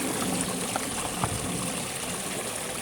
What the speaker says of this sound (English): I'm just running some water through.